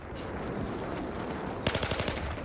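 Sniper and automatic gunfire in Battlefield 4: a steady wash of distant shooting, then a loud close burst of several rapid sharp shots near the end.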